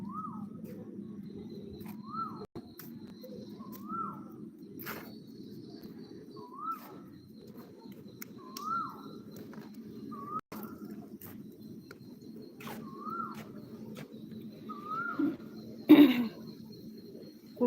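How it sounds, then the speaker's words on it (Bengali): An Asian koel calls outside on a spring afternoon, heard from a rooftop: about nine rising, whistled notes repeat at steady intervals, fairly distant and soft over a low background hum. "এখনো কোকিল পাখির ডাক শোনা যাচ্ছে"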